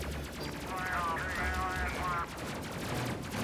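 Spaceship turret missiles in the game Space Crew firing in a rapid, continuous stream of thumping blasts, with game tones and a voice talking over them.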